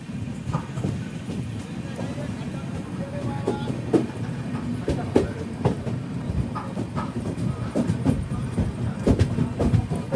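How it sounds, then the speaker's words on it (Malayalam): Mangala Lakshadweep Express train arriving at Chiplun station, a steady low rumble of rolling railcars with intermittent clicks and clanks from the wheels, continuous and moderately loud throughout. "ട്രെയിൻ ഇപ്പോൾ ചിപ്ലുൻ സ്റ്റേഷനിലേക്ക് ഇതാ എത്തുകയാണ്"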